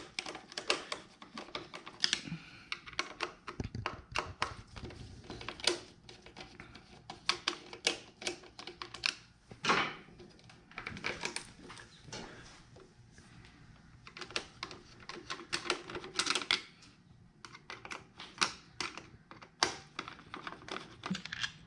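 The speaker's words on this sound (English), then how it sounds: "All you got to do is take your fine Phillips, and there's going to be two screws, one on each side, left and right." A fine Phillips screwdriver backs two screws out of a Harley-Davidson Sportster tail light, producing quiet, irregular metallic clicks and ticks scattered across a long stretch with short pauses between bursts.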